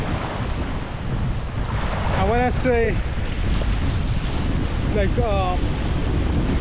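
Rain and wind rush steadily outdoors beside water near Bartica, Guyana, a broad constant hiss, while someone speaks briefly twice over it.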